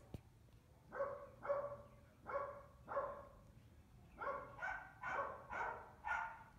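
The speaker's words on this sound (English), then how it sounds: "Listen to these damn dogs." Dogs bark in the distance near a home, eight or so faint barks and yips in an uneven rhythm, with one small sharp knock right at the start.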